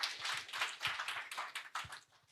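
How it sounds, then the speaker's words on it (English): A small meetup audience claps, a brief patter of a handful of hands, fairly close and fading out after about two seconds. "give a round of applause"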